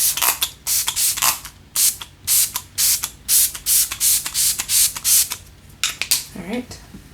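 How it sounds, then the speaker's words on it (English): A handheld primer water mist sprayed onto a face, a long series of short hissing spritzes in uneven bursts, close and loud, with brief pauses between pumps. "I'm going to spray my face with my primer water mist"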